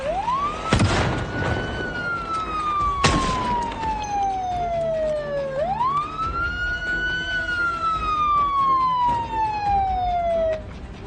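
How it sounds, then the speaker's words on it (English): Ambulance siren in the video game Project Zomboid, a loud wailing tone that sweeps slowly down and up across two long cycles, interrupted by a couple of sharp loud bursts. "We'll cut the sirens after we deal with these."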